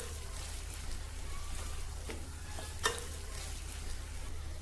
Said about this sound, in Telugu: ఇప్పుడు ఈ కట్ చేసి పెట్టుకున్న ఆనియన్స్ వేసేసుకోవాలండి. ఓకే అండి, వేసుకున్నాక ఒకసారి మిక్స్ చేసుకోవాలి.